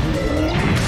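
Glass breaking in the video game Digimon World: Next Order, a single loud, close smash with a crashing burst that fills the short moment without any voices.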